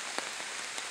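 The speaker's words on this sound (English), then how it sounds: "I'm literally just walking around in the rain." Steady rain falling outdoors on a rural property near a tree line, a dense continuous patter with a couple of brief louder drops, no voices.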